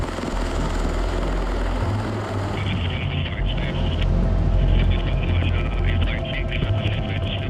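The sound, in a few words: MV-22 Osprey tiltrotor aircraft in flight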